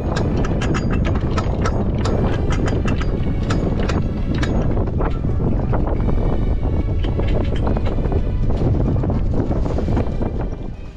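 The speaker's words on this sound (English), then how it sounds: "And then we started winching." Rapid ratcheting clicks of a sailboat winch being cranked, repeating steadily under heavy, blustery wind noise.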